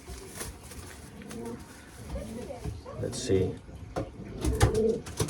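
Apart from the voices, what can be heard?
young racing pigeons cooing while being basketed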